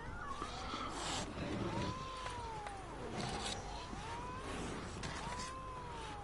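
A cat in The Witcher 3: Hearts of Stone meows repeatedly, with four or five drawn-out, rising-and-falling cries spaced a second or so apart, close and clear over soft game ambience.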